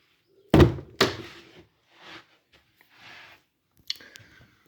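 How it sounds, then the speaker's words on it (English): Heavy old wooden door of an ancient church in Essex swinging shut, giving two loud thuds close together followed by softer creaks, latch rattles and a final metallic clunk of the lock, with no talking. "We'll shut the door behind us."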